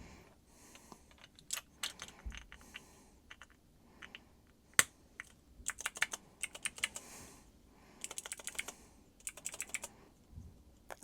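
Clicky mechanical keyboard switches typed on in irregular bursts of sharp close clicks with short pauses between, alone without talk.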